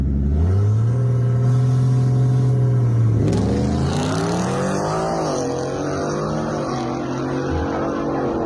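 A Coyote-powered, supercharged all-wheel-drive Ford F-150 and a Toyota Supra at a drag race launch: one engine holds a steady loud rev, then climbs sharply in pitch as it pulls away, with a second engine's rising harmonics layered close by.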